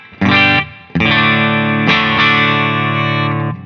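Electric guitar played through a NUX Mighty Space amp on its Jazz Clean preset with a compressor, a short loud chord followed by longer sustained ringing chords, bright and full, with no talking.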